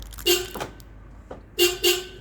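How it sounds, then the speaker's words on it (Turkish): A car horn gives a short toot, then two quick honks in a row after a pause, loud and close, on a car fitted with keyless entry and a starter cut-off. "Korna sesini duydun?"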